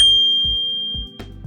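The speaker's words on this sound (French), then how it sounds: "Petite sonnette mécanique." A small mechanical bell on a Mokwheel Basalt electric bicycle dings once with a bright, ringing tone that decays slowly, accompanied by a few soft low mechanical clicks.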